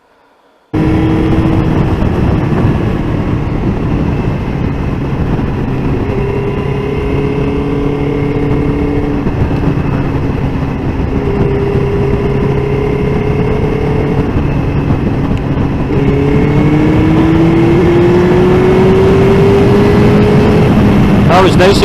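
A 1999 Suzuki GSX-R 750 SRAD motorcycle engine drones steadily while riding, its pitch shifting and rising as it revs toward the end, loud and close with wind rush throughout.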